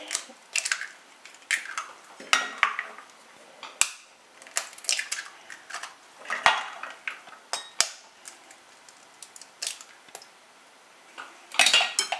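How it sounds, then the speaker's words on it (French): Six whole eggs being cracked into a bowl for a génoise sponge, heard as a series of close, sharp taps and shell crackles spaced irregularly, with faint clinks of the bowl between them. "Nous allons casser les 6 œufs entiers"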